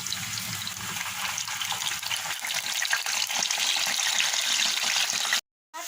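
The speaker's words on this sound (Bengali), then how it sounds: "এই যে প্যানে তেল দিয়ে দিয়েছি এখন এটাকে ভেজে নেব" Chicken pieces frying in oil in a pan make a loud, steady, close hiss and sizzle that runs without a break, with no voices, until a brief silence near the end.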